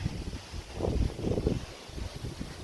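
Gusty wind buffets the microphone in low rumbling bursts beside a BMW Z3, rising and falling over a couple of seconds with no other clear sounds.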